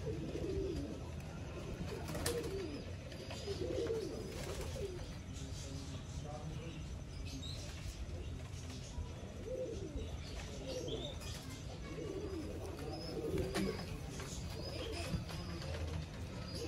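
Sialkoti pigeons softly cooing at intervals against a constant background hum, with someone talking throughout.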